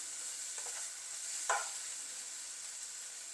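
Sri Lankan seeni sambol fries in a pan with a faint, steady sizzle, broken by a couple of soft scraping stirs from a spoon. The sound is quiet and close, with no voices.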